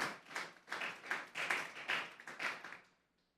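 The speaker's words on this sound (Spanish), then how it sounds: "Vamos a darle un fuerte aplauso, pues, al Señor esta" A church congregation gives a strong round of applause for the Lord, rhythmic group clapping in steady waves at moderate volume that fades away near the end.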